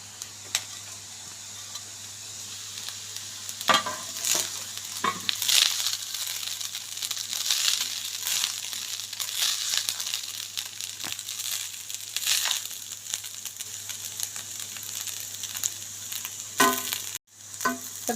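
Prawns and rice being stir-fried in a pan, a steady soft sizzle with intermittent scraping and stirring strokes throughout, fairly quiet and close.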